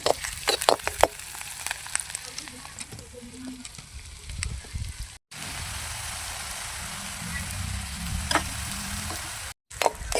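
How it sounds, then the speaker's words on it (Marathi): Chopped onion frying in hot oil in a pan, a steady soft sizzle with stirring scrapes and taps, a few sharp clinks near the start and brief dropouts. "तेल गरम झाल्यानंतर कांदा टाकायचा. आता कांदा टाकला. आता हलवून घेते."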